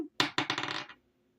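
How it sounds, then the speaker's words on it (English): Dice are rolled onto a hard surface, a sharp first impact followed by a rapid series of rattling, bouncing clicks that settle within a second, close and clear, with no talking. "So I'm going to roll the dice to get the Zodiac message today."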